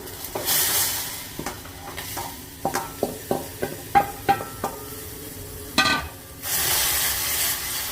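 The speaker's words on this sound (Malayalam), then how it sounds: "സിമ്മിലിട്ടിട്ട് ഈ പൊടി കുറേശ്ശെ ഇട്ട് ഇളക്കിയെടുക്കാം." A spoon scrapes in quick, regular strokes as ragi flour is stirred into simmering water in a pot. A soft bubbling hiss opens and closes the strokes, and nobody speaks.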